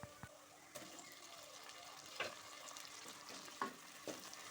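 Chopped tomatoes with salt sautéing in a pan of onions for mutton gravy, giving a quiet continuous sizzle with a few sharper stirring scrapes and clinks, close up, no talk.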